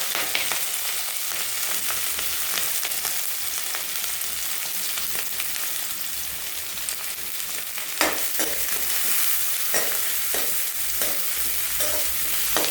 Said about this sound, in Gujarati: ડુંગળી મરચાંને સરસ રીતે સાતળી લેવાના છે.